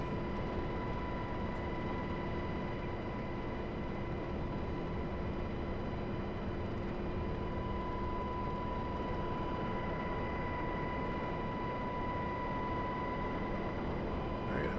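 A UH-60L helicopter in a combat flight simulator drones with a loud, unbroken engine and rotor hum, steady tonal lines sitting over dense broadband noise throughout.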